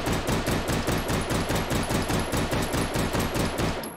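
A Beretta M93R pistol fitted with a compensator, fired in the VR game H3VR, lets off a loud, rapid, evenly spaced string of close shots, roughly four per second, continuing nearly unbroken with no talk over it.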